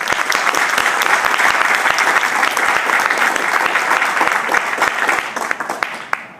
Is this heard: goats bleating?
no